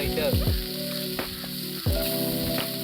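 Chicken frying in oil on roof tiles over an outdoor fire, a close, loud, steady sizzle broken by a few clanking scrapes and taps of a utensil.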